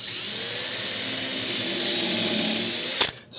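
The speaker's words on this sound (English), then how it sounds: "I have my drill bit set pretty much to the length of this fastener" A power drill bores into MDF with a steady, close whirring drone for about three seconds, ending in a brief clatter as it stops.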